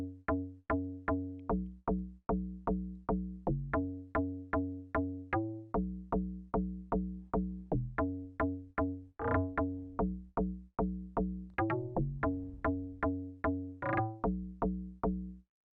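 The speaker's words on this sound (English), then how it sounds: "So this is called the log drum, and this is one of the most important Amapiano sounds." Amapiano log drum from a DX10 in FL Studio, playing a steady repeating pattern of deep, punchy tuned hits with quick rolls breaking in midway and near the end, loud and alone with no talking.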